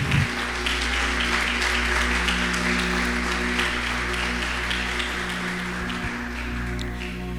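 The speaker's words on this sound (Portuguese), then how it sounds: "Pode aplaudir o Senhor." A church congregation applauds during a Portuguese-language sermon, a steady, dense wash of clapping over a constant low hum that holds for several seconds and fades slightly near the end.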